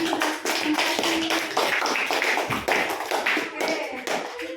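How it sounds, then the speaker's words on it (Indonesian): A classroom group claps for classmates after a group presentation, with steady, dense applause from many hands nearby that continues throughout. "Beri tepuk tangan buat temannya yang sudah empati"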